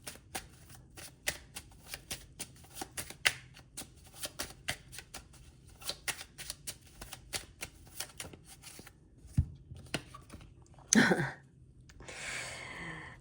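Tarot cards are shuffled by hand in quick, crisp riffling flicks, a close, quiet run of rapid papery snaps that ends in a louder burst and a soft rustle.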